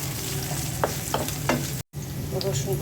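Onions sizzle in hot oil in a frying pan, a dense continuous hiss with a few quick stirring scrapes and a brief cut to silence near the end; no talking.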